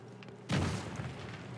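A grenade goes off in the video game The Division 2 with a sudden deep boom after a brief quiet, then rolls off into a rumbling decay, heard alone.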